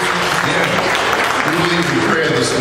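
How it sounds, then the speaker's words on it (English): Church congregation at a Sunday service clapping hands in praise, a loud, full burst of clapping mixed with voices and cheering from the crowd. "Let's give Jesus a hand clap."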